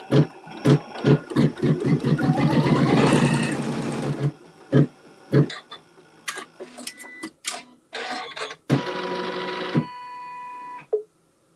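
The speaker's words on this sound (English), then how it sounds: "we'll go ahead and stitch that seam" Sewing machine stitching a quilt seam, several rapid runs of stitching that build to a sustained whir, then shorter stop-start bursts and clicks with pauses between.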